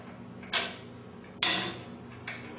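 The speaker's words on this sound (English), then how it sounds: "These bolts come out with a 9/16" Metallic clicks and ratchety snaps from a 9/16 wrench loosening garage door torsion spring bolts, three sharp close strokes spaced irregularly over a quiet background.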